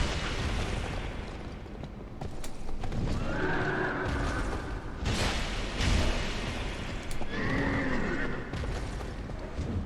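A horse boss in Dark Souls II: Scholar of the First Sin neighs loudly twice amid heavy thuds, crashing impacts and clattering hooves, with no music underneath.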